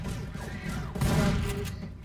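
Shotgun blast in Left 4 Dead 2, a single heavy boom near the middle over a low game background rumble.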